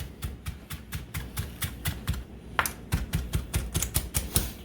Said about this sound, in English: we dice this up real fine because we want this cilantro to go all through everything